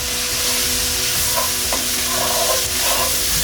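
Onions and Worcestershire sauce stirred in a hot pan with the heat just off, a loud steady sizzle and hiss with scraping stir strokes throughout, no voices.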